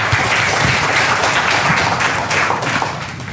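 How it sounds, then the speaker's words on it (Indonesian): Audience applause at a health product demonstration, dense steady clapping filling the room, loud and continuous throughout with no clear speech on top. "tepuk tangan dulu buat kita semuanya pengen muda-muda ya"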